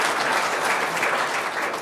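An audience at a city economic forecast event claps steadily, a dense, even wash of applause from a crowd filling the room with no talk over it.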